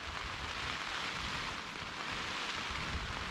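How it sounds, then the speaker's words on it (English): Heavy rain falling on a tent, a dense, even hiss of drumming drops that stays loud and unbroken with no voices. "Rain's coming down hard."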